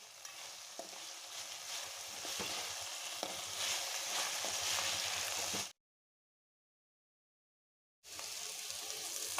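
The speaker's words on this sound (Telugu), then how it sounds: "ఈ ఆయిల్లో ఫ్రై అవుతుంది మంచిగా" Green beans fry in oil while being stirred, giving a loud, continuous sizzle with scraping strokes. The sound cuts to about two seconds of total silence, then the sizzle resumes.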